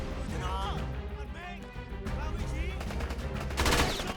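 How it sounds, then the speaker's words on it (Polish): Gunfire in Rambo The Video Game: Baker Team, repeated single shots cracking over game music and effects, with someone talking over the action. "To są po prostu pojedyncze strzały, słuchajcie."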